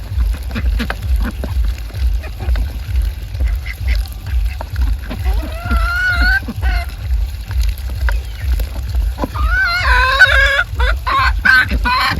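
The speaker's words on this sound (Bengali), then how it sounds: "যে মুরগিরা পক পক করে ডিম পাড়ার টাইমে সেটা" Hens cluck and squawk in bursts at egg-laying time amid farmyard noise in winter, with a constant low hum underneath and a livelier flurry of calls near the end.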